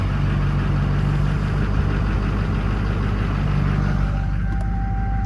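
A straight-piped Duramax diesel in a Silverado or Sierra idles steadily, a loud, constant low rumble with a throbbing beat and no talk over it.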